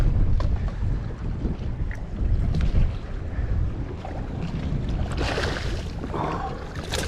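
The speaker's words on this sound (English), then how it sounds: "This wind is killing me." Strong wind buffets a small fishing boat on murky saltwater, with rough, gusty rumbling and microphone rush rising and falling throughout and no voices.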